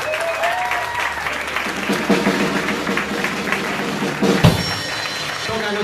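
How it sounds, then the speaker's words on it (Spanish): A crowd claps steadily and loudly for a performer being introduced, with a few thumps and a brief louder burst near the end. "Un fuerte aplauso para él."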